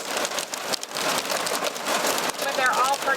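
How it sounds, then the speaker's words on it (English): Small hailstones patter and bounce densely on surfaces, a continuous close clatter like heavy rain, with a voice talking over it. "Wow, that was like the exact moment it started hailing."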